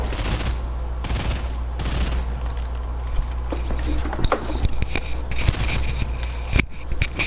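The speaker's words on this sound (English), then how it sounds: "where is he shooting me from?" Gunfire in a PS4 video game rattles in quick bursts and scattered shots over a constant low background hum, moderately loud throughout.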